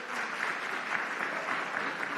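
An audience at a live youth-vote event at Norfolk State claps on cue, a steady, fairly distant wash of applause lasting a couple of seconds without speech over it.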